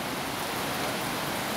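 Sudden rain falling in the Philippines, a dense, even wash of hissing noise that stays constant throughout, fairly loud and without talk.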